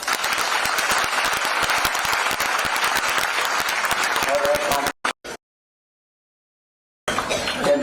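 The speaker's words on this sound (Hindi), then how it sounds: "इन्होंने जोरदार तालियां" Loud, dense applause from an audience at an annual foundation event honoring a memorial, steady for about five seconds, then cut off with brief bursts, silence, and clapping returning at the end.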